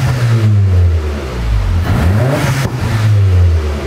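A Volkswagen MK7 with an Armytrix exhaust revs hard up close, its deep, loud exhaust note rising and falling in throttle blips with popping crackles, no speech.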